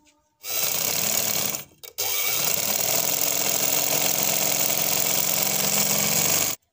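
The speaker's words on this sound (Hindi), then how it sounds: "जस्ट मैं इस पे सिलाई लगा रही हूँ।" A sewing machine stitches cut-work fabric with a pointed scalloped edge, giving a steady, close mechanical whir that runs almost the whole time, with one short stop and restart partway through.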